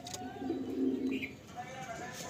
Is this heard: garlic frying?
no